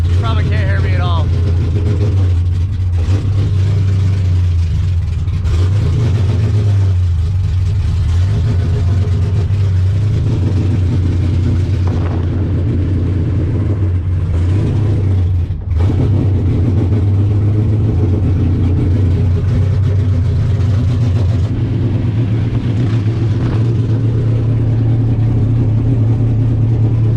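A V8 race car engine drones loud and steady at a Formula Drift tech day, a deep continuous rumble with some revving swells, while someone talks close by over the noise.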